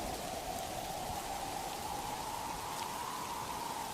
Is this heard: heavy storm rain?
yes